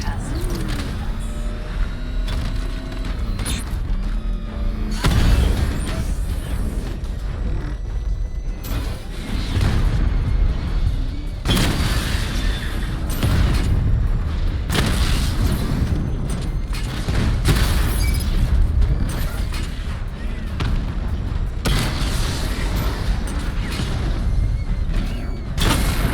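Repeated missile barrage explosions fired in Batman: Arkham Knight, heavy booming blasts rolling one after another over a dense mechanical din, with a synthetic voice speaking over the action.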